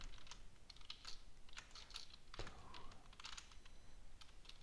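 Computer keyboard being typed on while writing Python code, rapid irregular key clicks close and quiet, continuous throughout with a faint background hum.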